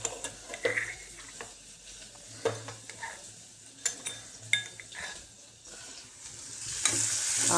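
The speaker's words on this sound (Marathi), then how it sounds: "कढीपत्ता कुटलेलं लसूण टाकायचं." Curry leaves and crushed garlic sizzling in hot oil for an aubergine curry, with a steady frying crackle, repeated sharp stirring scrapes and clinks of a spoon against the pan, growing louder near the end; no talking.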